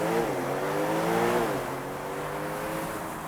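A Porsche 911 Turbo S T-Hybrid on a launch start, engine note climbing steadily in pitch as the car accelerates hard, then easing off, with a loud, sustained drone and no speech.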